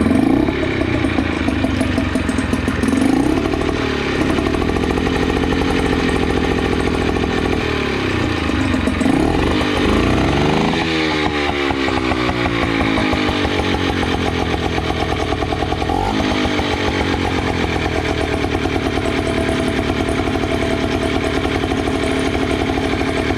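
A small Yamaha Malta outboard motor with a throttle fault runs steadily at close range, its pitch rising and falling as the revs change before settling into a fast, rattly high idle.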